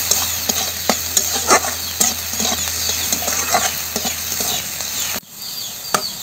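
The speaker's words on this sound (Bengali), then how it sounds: "পেঁয়াজটাকে হালকা করে একটু ভেজে নেব" Chopped onions fry in a pan with a steady close sizzle, broken by scattered stirring scrapes and crackles, until the sizzle drops off abruptly near the end.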